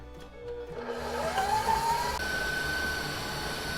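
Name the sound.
electric mixer on high speed creaming butter and sugar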